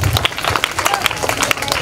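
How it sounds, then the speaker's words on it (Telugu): A group of children at a church children's camp claps together, uneven sharp claps scattered at close range with some voices mixed in. "అందరం క్లాప్స్ కొడదాము"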